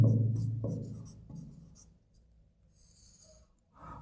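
Chalk or marker writing on a board during a class 12 chemistry lesson, a close scratchy scraping in short strokes that fades out over a few seconds, with no talking.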